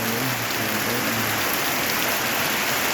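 Heavy nighttime rain pours in Iloilo, a dense, constant hiss of drops drumming on surfaces, loud and unbroken, with a faint low hum underneath.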